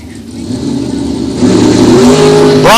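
A Camaro and a dragster launching side by side at a bracket drag race, engines roaring loud and close, building into a rising high-pitched scream as they pull away.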